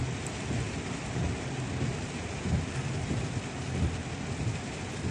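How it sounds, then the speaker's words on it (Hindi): Heavy rain pours steadily in Riyadh, Saudi Arabia, while low thunder rumbles underneath, a dense continuous wash of storm noise. "बारिश हो रही है रियाद में बहुत ज़्यादा"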